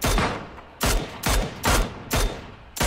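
Gunfire in the battle royale game PUBG: five loud, sharp shots in an uneven rhythm, each cracking sharply and trailing off in a short echoing tail, with no voices.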